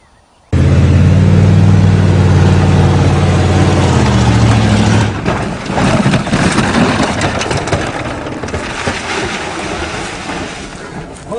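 A Chevy truck runs hard off a farm bump and crashes, a loud steady engine roar that breaks into rougher thrashing and clattering impacts midway, with no talk over it.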